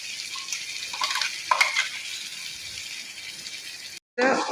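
Ginger sautéing in sesame oil and ghee, a soft sizzle with stirring scrapes and a few brief clatters, a short cut near the end before the frying resumes louder.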